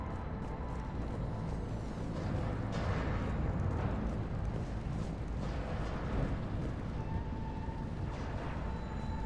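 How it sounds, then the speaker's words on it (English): Heavy cannon fire booms over a dense, rumbling wash in the Mass Effect Omega mission, with several deep distant blasts rolling through continuous low noise and no speech. "Those cannons have to be stopped."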